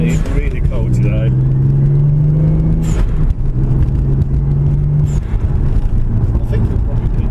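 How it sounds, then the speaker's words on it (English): A Toyota 2JZ engine runs with a low, steady rumble and faint revving tones on a wet, cold day, with wind-like noise and someone talking over it. "I think it'll pick up the old engine sounds there"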